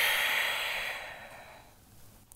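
A single long, soft exhale through the nose or mouth during a seated yoga breathing exercise, fading gradually into quiet.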